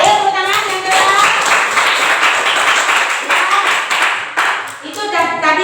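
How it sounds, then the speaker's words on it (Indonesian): A class of schoolchildren claps their hands together in a sustained round of applause, dense and steady, filling the room for several seconds with a brief dip near the end before picking up again. "Ayo tepuk tangan yang kedua."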